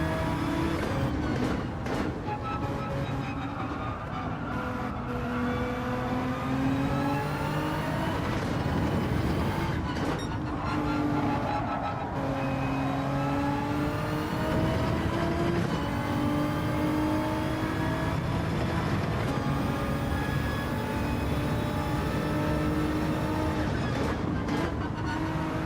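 A race car engine in Gran Turismo 7 during a daily online race at the Red Bull Ring, droning steadily and revving up and down through gear changes for the whole stretch, loud and close, with no talk.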